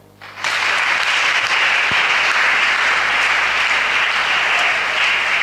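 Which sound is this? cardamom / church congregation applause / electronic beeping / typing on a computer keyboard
church congregation applause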